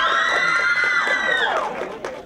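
A class's supporters cheer loudly at a school movie awards, a bright crowd of shouting young voices and whoops that fades slightly toward the end.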